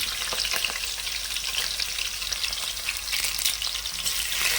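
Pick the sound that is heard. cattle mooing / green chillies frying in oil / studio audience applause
green chillies frying in oil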